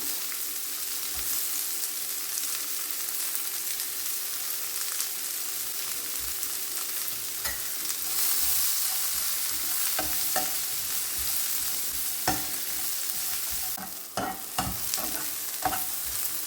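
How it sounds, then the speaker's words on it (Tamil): About 150 to 200 grams of sliced onions fry in hot oil toward golden brown, a continuous close sizzle broken by frequent scraping stir strokes that grow busier near the end. "அதை அப்படியே போட்டு நல்லா கோல்டன் ப்ரௌன் வர்ற வரைக்கும் நம்ம வறுத்து எடுக்கணும்"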